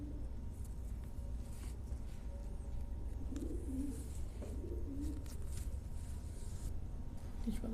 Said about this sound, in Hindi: क्या बात है शबाज भाई, बहुत ही खूबसूरत कबूतर माशाल्लाह जी।